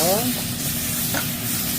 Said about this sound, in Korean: 흰김치를 볶다가 자 볶는 것이 중요합니다